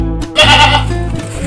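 A Doro goat bleats once, loud and close, in a drawn-out, wavering call with farmyard sound under it.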